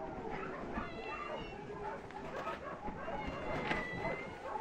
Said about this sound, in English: Oh, little argument with Maria.